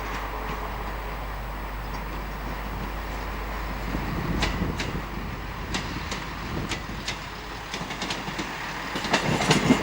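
Class 158 Sprinter diesel train passing on a British railway line, a continuous rumbling roar with rhythmic clickety-clack and wheel clatter building toward the end.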